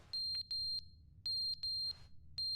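A fire alarm in The Stanley Parable video game sounding in repeated high electronic beeps, grouped in pairs and triples with short gaps, loud and clear with no voices.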